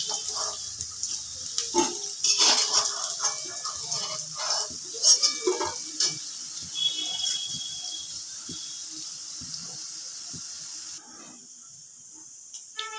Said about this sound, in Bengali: প্রথমে আমি ওই তেলের মধ্যে মৌরি ফোড়ন দিয়ে দিলাম।